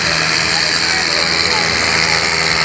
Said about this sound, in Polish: Ciągnik szybko mknie do mety.